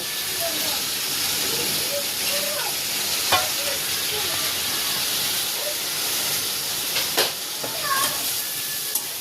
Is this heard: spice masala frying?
yes